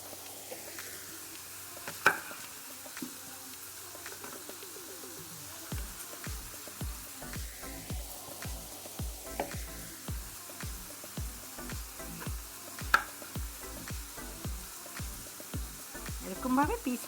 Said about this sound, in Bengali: চিংড়ি মাছগুলো আমি ভালো করে একটু লাল লাল করে ভেজে নেবো